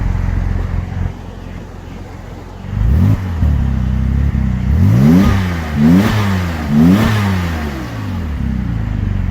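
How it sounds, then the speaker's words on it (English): A 2002 Porsche 911 Turbo coupe with Tiptronic gearbox revs up several times in quick succession, each blip rising and falling in pitch, loud and close with no talking. "Let's give it another couple of revs now that she's been running"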